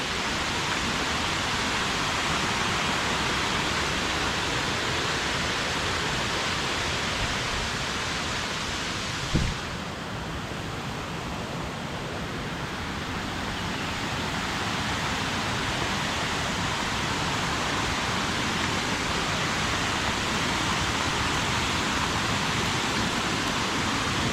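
Waterfall in Nan province, Thailand, a loud, continuous broadband rush of falling water filling the whole span with one brief knock midway and no talk.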